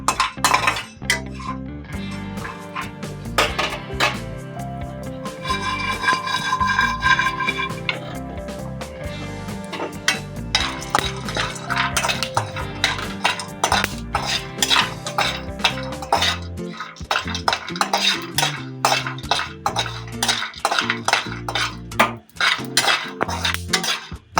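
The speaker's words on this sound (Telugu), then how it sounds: "లవంగాలు, చెక్క, సాజీర కూడా కొంచెం వేస్తున్నా నేనైతే. వీటిని లైట్గా ఫ్రై చేసుకోవాలి." Cloves, cinnamon and shahjeera are lightly fried in a pan while a metal spoon stirs and scrapes, producing rapid, irregular clinks and taps against the cookware, close and fairly loud throughout.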